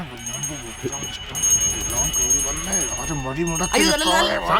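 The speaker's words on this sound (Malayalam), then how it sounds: "ഒരു സെക്കൻഡ് അവരോട് മണിയടി നിർത്താൻ പറയും കേട്ടാ" A bell is rung steadily by a swami, a thin metallic ringing that carries on throughout beneath loud, overlapping conversation among several people.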